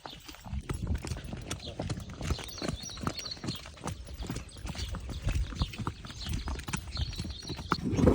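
A mare's hooves clip-clop steadily during a training session outdoors, a continuous fast rhythmic clatter close by, with faint voices in the background.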